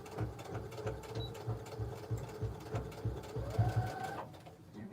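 A home sewing machine stitches a quilted cell phone pouch with a quiet, steady rhythmic whirring and needle chatter, pausing briefly near the end, heard close at moderate level.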